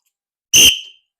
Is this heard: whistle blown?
yes